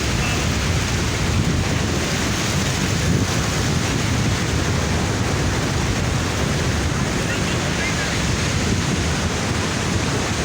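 Steady, continuous roar of surf washing in, broad and rushing with wind buffeting the microphone throughout.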